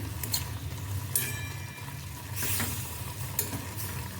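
Roasted peanut and sesame powder is stirred into a green chili pickle in a pan, with a sizzling bed underneath and a few distinct scraping strokes about a second apart, close and steady with no talking.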